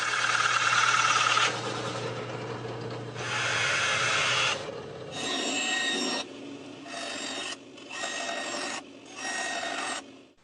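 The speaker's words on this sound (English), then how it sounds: "the most convenient way to cut the holes is with a circle cutter on a drill press." A circle cutter on a drill press bores holes through wood, making a series of rough, rasping cutting bursts: a long one, then several shorter ones with brief pauses between them, close and fairly loud.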